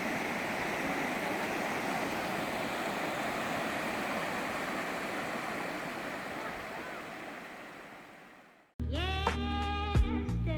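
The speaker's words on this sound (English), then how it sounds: "This waterfall's coming off everywhere, yeah?" Waterfall on the Dartmoor moors pouring steadily, a loud, dense rush of water close by that holds for most of the clip before cutting off near the end, followed by a few seconds of talking.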